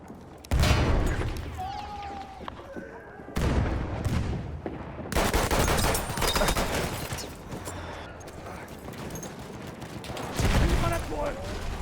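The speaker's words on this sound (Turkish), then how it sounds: "Ulan tam bomba mı attım? Onda da ev yıkıldı ya." Grenade blast in Battlefield 1 bringing down a house, with loud booming bursts and crumbling debris amid heavy surrounding gunfire and explosions, a voice shouting over the chaos.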